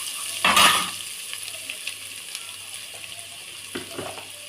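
Mutton curry masala with cinnamon powder is stirred in a pan, a quiet continuous sizzle marked by a loud scraping stir at first and a couple of softer strokes later, close by, with no talking.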